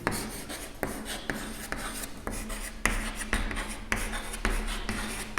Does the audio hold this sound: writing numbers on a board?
yes